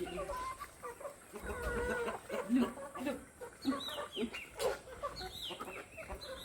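Chickens cluck in short, uneven bursts nearby, with occasional higher calls mixed in over light background noise.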